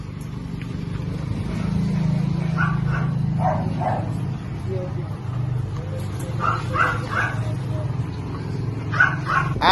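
Dogs barking at a pet market in Bocaue: intermittent, moderately distant barks and yips in short bursts over a steady low rumble of traffic and crowd noise.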